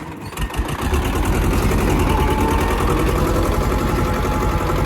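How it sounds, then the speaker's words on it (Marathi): A tractor engine idles loudly and close, kept running so it stays warm, a dense steady chugging drone that settles in after a brief uneven start. "बंद नाही करू चालू ट्रॅक्टर"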